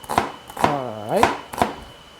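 Knife chopping onions on a board at home, a few separate sharp chops spaced out across a couple of seconds, close and fairly loud, with a brief voice-like tone partway through.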